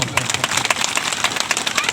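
Audience applause from a crowd at a spoken address, dense clapping with steady bursts throughout, mixed with crowd babble.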